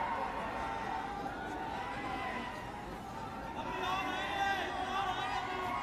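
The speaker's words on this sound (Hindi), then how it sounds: "बहुत सारे लोग आ गए, बहुत भीड़ है, बहुत अच्छी बात है।" A large crowd gathers at a political rally (jansabha) in Gurdaspur, Punjab, making a steady, dense murmur of many voices, with a continuous hubbub throughout.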